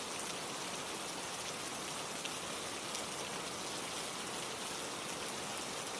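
Steady rain falls evenly in a dense, continuous hiss of drops on surfaces, with no voices or other sounds.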